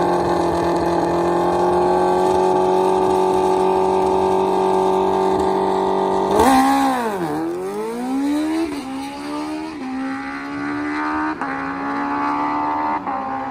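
At a drag strip, grudge motorcycles such as Kawasaki ZX14s and a Suzuki Hayabusa hold a loud, steady idle roar, then one launches with a sharp rising scream and shifts through gears as it pulls away.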